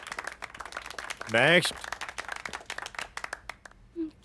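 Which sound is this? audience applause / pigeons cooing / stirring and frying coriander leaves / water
audience applause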